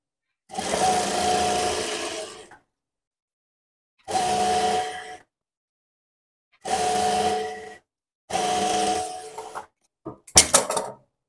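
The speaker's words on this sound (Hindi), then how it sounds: "कपड़ा रखने के बाद इसी सिलाई के ऊपर फिर से सिलाई लगाएंगे" An electric sewing machine stitches lace onto kurti fabric in four separate close, steady whirring runs with silent pauses between them, ending in a short burst of rattling taps.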